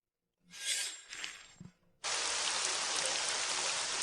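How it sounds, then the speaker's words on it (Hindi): Heavy rain bursts in as a dense, steady hiss of downpour on surfaces, loud and unbroken, after a short stretch of softer rustling and clattering sounds. "इतनी बारिश हो रही है"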